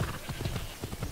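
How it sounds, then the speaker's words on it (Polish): Horse hooves clip-clopping at a riding pace in the video game Assassin's Creed Odyssey, a steady, fairly loud rhythmic patter of footfalls over a constant ambient bed with no speech. "Podjedźmy sobie bliżej raczej, bo koniem jedziemy. A koniem się jedzie, nie idzie."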